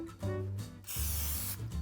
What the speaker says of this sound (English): I'm going to spritz them with some vegetable oil spray so that our cinnamon sugar mixture sticks